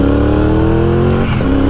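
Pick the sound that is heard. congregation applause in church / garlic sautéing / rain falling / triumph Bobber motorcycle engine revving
triumph Bobber motorcycle engine revving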